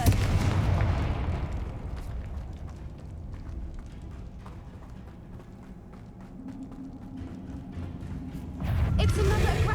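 A Confringo blasting spell bursts in the wizarding game Hogwarts Legacy: a loud blast opens, then scattered crackles and thuds fade, and another burst swells near the end.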